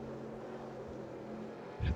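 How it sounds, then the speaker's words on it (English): Whelen Modified race car engine in NASCAR Racing 2003, a faint steady droning hum held at high revs, with a voice speaking over it. "So I do have it revving pretty high"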